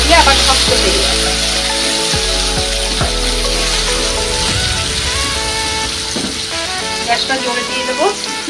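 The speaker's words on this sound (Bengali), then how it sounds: "গ্যাসটা জোরে দিয়ে দেবো, দিয়ে চিংড়ি মাছগুলো ভেজে নেবো।" Prawns fry in hot oil on a high gas flame in a home kitchen, a loud steady sizzle with clinks and scrapes of stirring, music or other kitchen noise layered over it.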